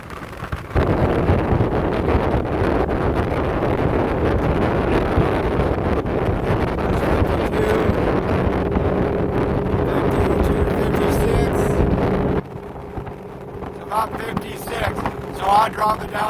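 A 2016 Tracker 175 bass boat cruises at about 30 mph, its outboard engine droning steadily with heavy wind buffeting and water rush, the roar easing near the end as the motor drops off.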